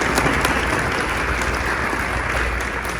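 An audience at a talk on pollinators and biodiversity gives dense, continuous applause, many hands clapping together at a steady level without letup.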